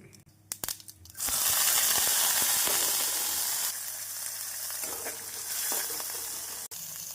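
A sudden loud sizzle as chopped green chilli and ginger hit hot oil with popping mustard seeds, hissing steadily and crackling for several seconds after a few light taps.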